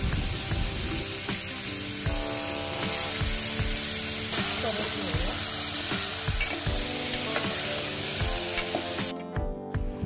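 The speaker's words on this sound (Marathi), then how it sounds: "यात आता आपण बटाटे टाकून घेऊया" Potatoes frying in a pan with turmeric for a Goan-style tomato potato bhaji, a loud, steady sizzle with repeated scraping stirs of a spoon throughout, ending abruptly.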